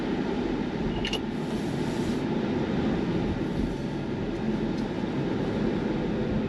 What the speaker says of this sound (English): The only noise really coming into the cabin is the noise of the wheels, and that's pretty much it.